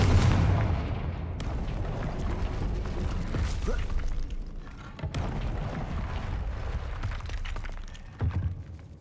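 A Confringo fire spell cast in the video game Hogwarts Legacy, heard as a booming explosive blast followed by rumbling and mechanical clatter, with a second sharp impact near the end; no talking.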